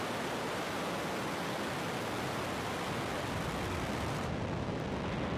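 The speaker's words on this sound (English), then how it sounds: "And liftoff of the Falcon 9." SpaceX Falcon 9 rocket lifting off from Vandenberg on the NROL-145 mission, a loud, continuous broadband roar that fills the whole stretch without letting up, with no voices over it.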